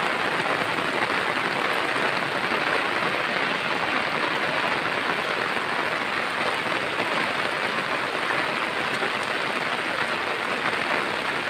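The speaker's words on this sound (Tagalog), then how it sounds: "Naabutan na ng ulan." Rain falls steadily on a farm in the Philippine countryside, a dense, constant hiss of drops hitting surfaces with no break for the whole stretch.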